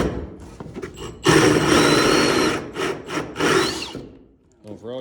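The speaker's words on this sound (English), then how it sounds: "go ahead and drill that one" A power drill bores through wood to make a hole for plumbing, grinding loudly at close range in several sustained bursts with short pauses between them. A brief voice is heard at the end.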